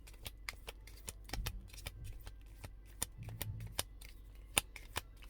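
Oracle cards being shuffled by hand, giving a run of crisp, irregular clicks and flutters at close range, with no voices.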